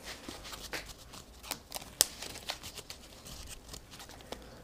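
A deck of Lord of the Rings card game cards being shuffled, a close series of crisp riffling flutters and snaps with one sharper slap midway, no voices.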